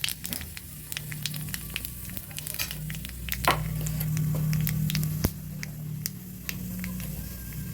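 Dried red chili and black cumin (kalonji) crackling in hot leftover fish-frying oil in a wok, a steady close sizzle with scattered sharp pops and spatters throughout.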